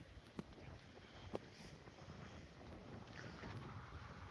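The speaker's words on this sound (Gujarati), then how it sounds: "પવન તો જો" Steady wind rushes faintly over a village farm plot with tall wheat, buffeting the microphone with a couple of soft thumps and a low continuous roar.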